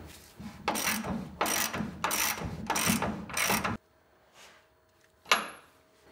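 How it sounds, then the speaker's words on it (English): Ratchet torquing the leaf spring shackles on a 1980-1996 Ford Bronco, heard as five loud, evenly spaced bursts of clicking, then a quiet pause and one last sharp click. "Now I like to torque down the shackles with the suspension loaded."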